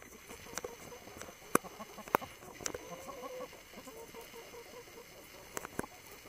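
Chickens, including a rooster, cluck and call at close range while being fed in a backyard, with short sharp calls scattered over a steady rustling and scratching background.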